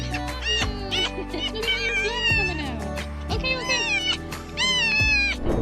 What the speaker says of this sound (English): listen to these sounds of happiness when the girl realizes that she's found her lost cat